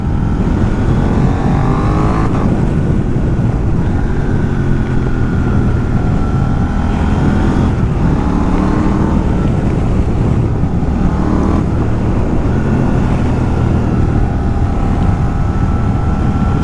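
A remapped KTM 890 Duke motorcycle engine drones under way on an open road, a loud, continuous twin-cylinder roar with rising and falling revs through gear changes, heavy wind rush mixed in, and no voices.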